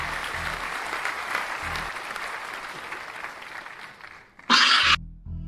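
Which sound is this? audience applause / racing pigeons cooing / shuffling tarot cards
audience applause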